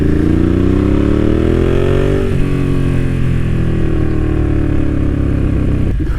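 A motorcycle engine drones loudly and steadily throughout a ride in Pacific Northwest winter conditions, heard close up with a slight shift in pitch partway through as the rider changes speed.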